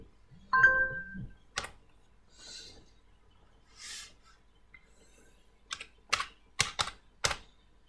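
Typing PHP code on a computer keyboard produces a few scattered keystrokes, then a quick cluster of crisp clicks near the end, faint and close in a quiet room.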